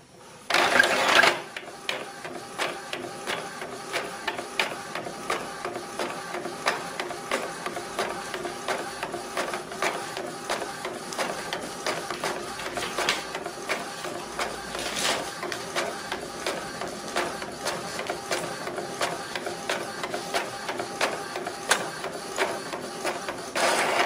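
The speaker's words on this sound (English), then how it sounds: "the command should be goes to the printer and printing process begins within a few seconds" A printer runs through an address label print job with a continuous, close mechanical buzzing and rapid ticking print-head chatter lasting over twenty seconds, opening with a louder clunk.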